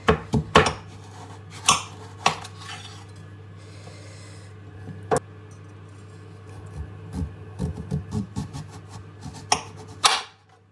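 A blunt kitchen knife slicing through food, probably chickpea and nut burger ingredients, gives a few sharp scraping rasps and knocks against a board, with a steady low hum underneath throughout.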